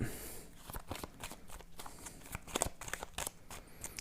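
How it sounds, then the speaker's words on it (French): Oracle cards are shuffled, handled and laid down in a quiet room: soft papery flicks, slides and taps arrive in irregular bursts, close and faint, with no talk. "Ok, on va recouvrir avec le keeper."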